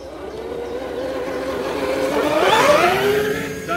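A giant 10x10 radio-controlled truck drives in low gear, its electric motor whirring steadily and rising in pitch as it speeds up, close and fairly loud with no talk.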